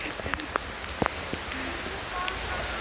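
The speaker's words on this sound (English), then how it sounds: "Yeah, this is a downpour." Heavy rain pours down on a nature trail along Florida's Nature Coast, a steady hiss of drops with scattered sharper splats and patters, close by and continuous, with faint voices now and then.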